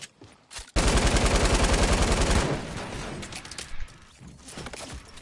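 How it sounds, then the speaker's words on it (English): Video game gunfire in a squad battle, a sudden burst of rapid automatic shots lasting about two seconds, followed by quieter scattered shots and rumbling. "Oh, I'm getting shot from across the fucking land."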